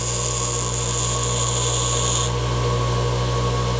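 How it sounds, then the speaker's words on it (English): A power tool grinds the burr off a metal screw for a Creality Ender 3 Pro second Z-axis kit, a steady, loud rasping whine running unbroken throughout, its upper edge easing slightly partway through. "Just grinding off the burr."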